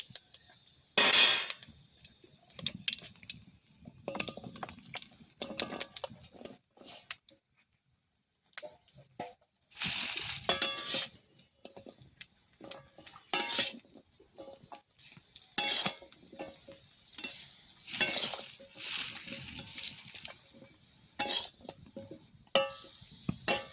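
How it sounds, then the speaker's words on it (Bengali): Metal utensil scraping and clattering in a pan as tamarind for a Bengali pickle is poured in and stirred with mustard oil and bay leaf, intermittent clanks and scrapes separated by quiet pauses. "এবার তেঁতুলগুলোকে ঢেলে দেবো।"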